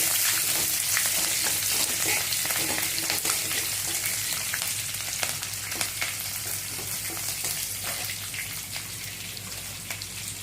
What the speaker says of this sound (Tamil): அதில் பச்சை மிளகா, கறிவேப்பிலை போட்டு வதக்கிட்டு